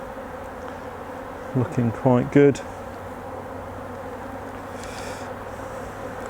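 Honeybees buzz around an opened hive during inspection of a recently split colony, a steady close droning hum throughout, with someone speaking briefly over it.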